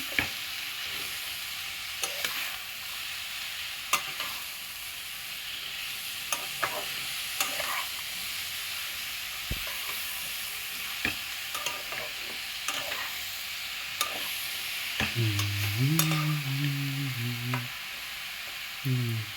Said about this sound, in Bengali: দিয়ে এটাকে একটু ভালো করে খুন্তি দিয়ে মিশিয়ে নিচ্ছি